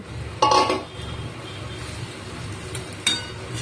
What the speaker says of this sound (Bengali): এবার মরলা মাছটা দিয়ে একটু নেড়ে চেড়ে নেবো